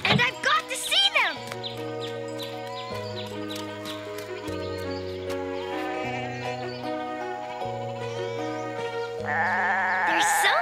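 Goats bleat repeatedly in a mountain pasture scene, their calls overlaid on sustained orchestral music, with a brief excited voice near the start and a swelling musical passage at the end.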